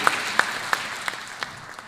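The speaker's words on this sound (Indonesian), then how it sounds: "Boleh tepuk tangan terlebih dahulu?" A small audience at an environmental summit in Indonesia gives sparse applause, a handful of distinct claps ringing out at a steady rhythm over about two seconds and thinning toward the end.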